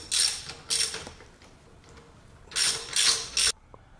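A 5/8 inch (16 mm) wrench or socket ratchets bolts tight in a few short bursts of clicking, close by with quiet pauses between the turns.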